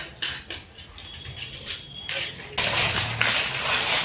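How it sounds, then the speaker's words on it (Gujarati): Sun-dried papads give off crisp, papery rattles and crackles as they are handled and shifted, with scattered light clicks first and then a brighter, denser rustle, close and fairly quiet. "આપણે પાપડને એક દિવસ માટે તડકામાં સુકાવ્યા હતા એ સરસ મજાના સુકાઈ ગયા છે બધા ખખડવા લાગ્યા છે"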